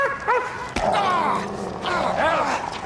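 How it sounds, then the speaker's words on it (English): A dog barks and yips in short excited bursts during a tense confrontation on a police drama street scene, with frantic shouting voices nearby. "Get the dog off!"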